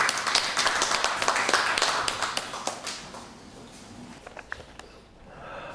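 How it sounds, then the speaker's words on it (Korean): Sparse, uneven clapping from a small audience at an academy lecture greets a company CEO as he takes the stage, sharp individual claps near the listener that thin out and fade after a few seconds. "우리 홍원부 대표님 큰 박수로 환영해 주시기 바랍니다"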